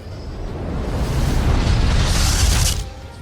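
A voice imitates a ghostly fire's small explosion, a loud breathy whoosh that swells for about two and a half seconds and then cuts off, with no other talk.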